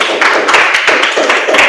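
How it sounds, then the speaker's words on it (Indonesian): A classroom of students claps for a presenting group during an English lesson, a short, steady burst of many hands with crisp, overlapping slaps close by. "kasih tepuk tangan dulu untuk kelompok 3"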